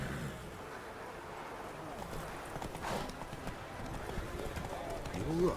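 A horse gallops in The Witcher 3, its hooves clopping in a steady, rhythmic beat. The sound is quiet and sits under game ambience, with voices talking over it.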